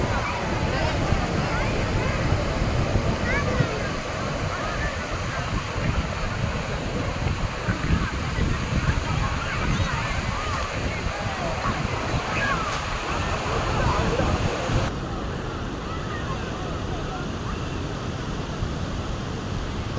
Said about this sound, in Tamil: இதுதான் ஃபால்ஸ்.